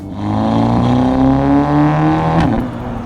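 A tuned Audi S3 with 410 wheel horsepower and a decat downpipe revs hard up close in third gear, its pitch climbing steadily before a sudden shift and drop in tone.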